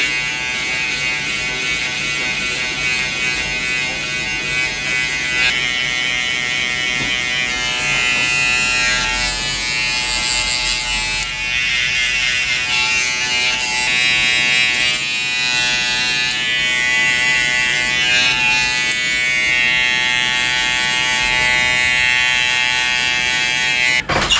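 A steady electric hair clipper buzzes continuously and fairly loud at close range as it cuts hair during a haircut at home, a constant whine with slight shifts as the blades move across the head.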